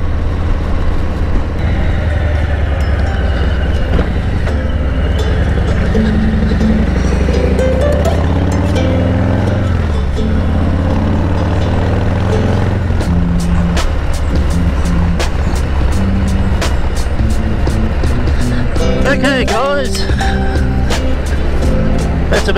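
A 2018 Harley-Davidson Deluxe motorcycle engine runs loud and steady throughout, with a deep rumble that swells as the throttle opens, and wind and road noise rushing over it.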